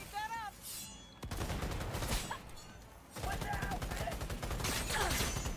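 Rapid light machine gun fire from Cyberpunk 2077 rattles in long continuous bursts with a brief pause between, loud and close, with someone talking over the shooting.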